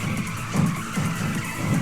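Tires skid hard in Tokyo Xtreme Racer as a car slides to a stop, a loud, sustained squealing rush with a few surging pulses across the whole short stretch.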